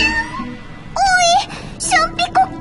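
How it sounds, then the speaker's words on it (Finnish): A small cartoon cat gives several high, wavering meows close up, in short bursts with brief gaps, over a light background bed. "Oi, se on pikku kisu."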